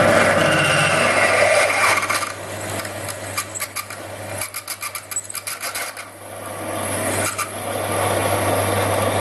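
A 13mm HSS bit from a cheap 25-piece drill set bores into solid material, grinding and rasping with a choppy, pulsing stretch in the middle before steadying again. The sound is close and loud, with no talking.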